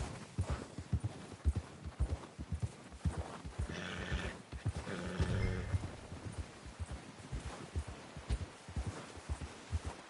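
Horse hooves clip-clop at a steady trotting rhythm in the Red Dead Redemption 2 video game, close and continuous for the whole stretch, with a brief neigh-like swell in the middle and no talking over it.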